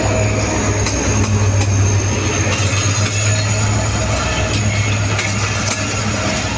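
Express train in Pakistan near Bahawalpur, heard as a loud, continuous low rumble and drone with a steady hum and scattered clanks as the cars roll past, no voices.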